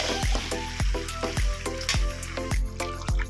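Bottle gourd and beef curry is stir-fried in a pan, with regular spatula strokes landing about twice a second over a constant low sizzle, close and clear.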